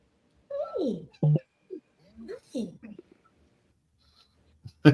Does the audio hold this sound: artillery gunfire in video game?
no